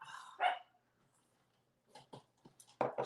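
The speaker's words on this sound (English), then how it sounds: "What is he barking at?" Chester the dog barks in a few sharp, separate bursts with quiet gaps between them, close and moderately loud indoors.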